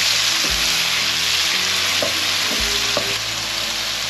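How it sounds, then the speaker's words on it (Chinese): Diced tomatoes stir-fried in oil in a wok, a steady loud sizzle with a few scraping stirs of the spatula against the pan, close and continuous throughout. "再加一点油，油炒番茄，这里有三颗切成丁状的番茄"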